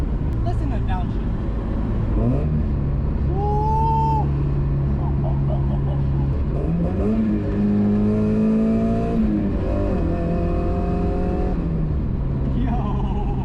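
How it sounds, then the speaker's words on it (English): A small Mazda Miata engine revs up, drops in pitch as it downshifts, then climbs again, with road and wind noise throughout. "Listen to downshift."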